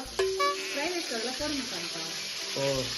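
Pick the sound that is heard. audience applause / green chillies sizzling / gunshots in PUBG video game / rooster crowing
green chillies sizzling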